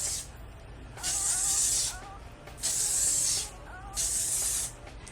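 Three hissing sprays from a Morphe makeup setting spray bottle, each about a second long, close and evenly spaced, with a quiet background in between.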